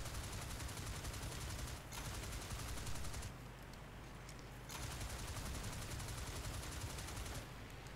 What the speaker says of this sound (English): I'm shooting at two-seaters.